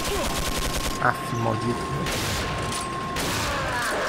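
Gunfire from the video game Resident Evil 4 rings out in several sharp bursts, with a player talking over the shots and game sound effects around them.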